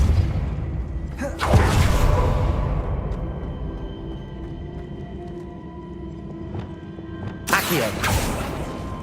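A Depulso spell cast in Hogwarts Legacy lands as a loud whooshing burst with a heavy thump, followed by a low rumbling game ambience and a second sharp blast near the end.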